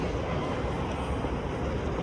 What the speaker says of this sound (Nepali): ट्रेन चढेर जानुपर्ने रहेछ है क्या हो यार। एयरपोर्टभित्र ट्रेन